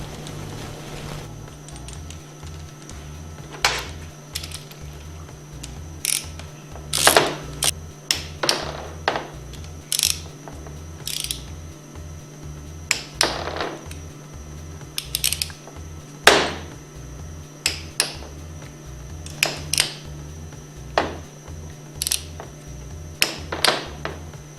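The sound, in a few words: torque wrench tightening Allen bolts on Hypro 2400 plunger pump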